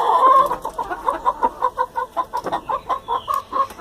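A hen close to hatching her first brood clucks in a steady, rhythmic series of short pulses, close and fairly loud, with no talking.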